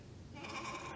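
A group of people imitate a sheep's bleat together at a Christmas Eve worship service, a single wavering baa rising over a soft hall murmur.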